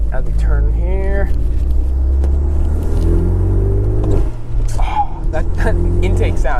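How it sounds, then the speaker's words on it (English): Hyundai Genesis Coupe engine intake roar while driving, a steady loud low rumble from inside the car, rising and falling slightly with throttle, with someone talking over it throughout. "That intake sound, I get a little distracted."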